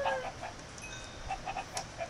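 Minecraft chickens cluck in short, soft bursts, scattered irregularly over a faint background hum, with no talking.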